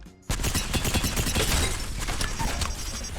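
Rapid automatic fire from the CAR SMG with no attachments in Apex Legends, a dense burst of loud, closely spaced shots starting abruptly after a brief quiet moment and continuing throughout.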